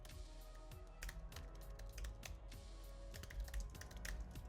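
Typing on a computer keyboard, a quiet, close run of quick irregular key taps and clicks in bursts over a low background hum.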